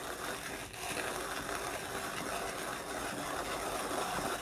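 A Lido OG manual coffee grinder is cranked at a fine setting, giving a quiet, continuous ratcheting burr grind with a faint mechanical whir.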